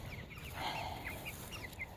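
Faint, distant clucking from a flock of mostly roosters with a couple of hens, soft intermittent calls over a low background hum.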